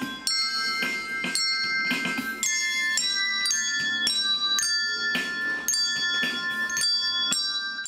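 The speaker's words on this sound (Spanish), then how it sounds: "vinimos a tocarle una canción con campanas" Handbells played by a children's choir ring one after another in a steady melody, bright tones overlapping and sustaining, played close by with no voices.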